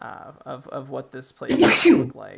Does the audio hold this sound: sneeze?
yes